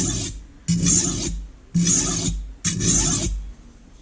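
A chipped kitchen knife scrapes along a simple bench stone in three long, even strokes, each a loud gritty rasp separated by brief pauses, close and alone.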